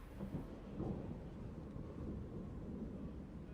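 Lightning spell from Elder Scrolls Online, heard as a continuous low thunderous rumble with a crackling swell near the start and steady rolling noise throughout, moderately loud and with no voices.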